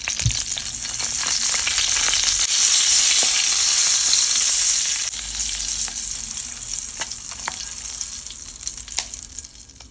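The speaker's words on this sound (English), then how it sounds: "And now it's time to prepare the tadka or the tempering" Tempering for haleem sizzles hard in a pan, a loud hissing burst for the first few seconds that settles into a quieter crackle with scattered pops.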